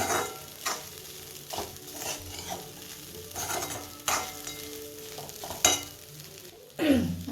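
Coriander tossed into food frying in a home kitchen pan, with steady sizzling and repeated stirring scrapes and utensil knocks at irregular intervals, close and fairly loud.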